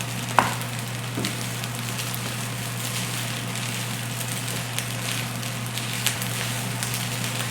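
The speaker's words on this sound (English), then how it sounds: "And you can definitely hear it sizzle." Scrambled eggs and rice sizzle softly in a pan in a steady, quiet hiss, broken by a few light clicks and taps of stirring.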